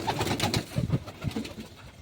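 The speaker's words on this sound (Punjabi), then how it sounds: "ਦੇਖੋ ਬਈ ਆ ਕੇ ਕਬੂਤਰ ਦਾਣੇ ਖਾਣ" Pigeons feeding on scattered grain near their coops, soft close cooing and light pecking and shuffling, fluttering in short uneven bursts.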